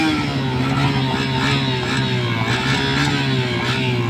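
Honda CBR 1000 motorcycle with a loud aftermarket muffler revving hard and steadily, a close, sustained roar of engine with rising and falling pitch and no talk.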